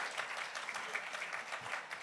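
Short burst of applause at an awards press conference: a room of people clapping steadily and fairly close, a dense patter of hands with no voices over it.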